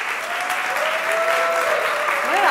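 Sustained applause from an audience at an intergenerational summer camp event, dense and steady clapping throughout that swells slightly toward the end, with a few voices and whistles rising above it.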